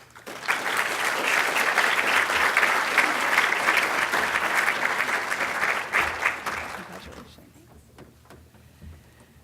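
An audience at a medical school honors convocation applauds an award recipient: dense, even clapping for about seven seconds, then tapering off into quiet room tone.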